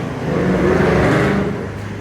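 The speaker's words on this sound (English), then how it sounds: "Another loud car." A car roars past close by, its engine noise swelling and then fading over about two seconds.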